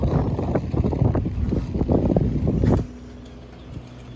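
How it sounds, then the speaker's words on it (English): Strong wind buffets a sailboat at anchor off Cumberland Island, a loud, gusty roar of broadband noise that drops abruptly to a quieter hum partway through. "it's just too windy right now"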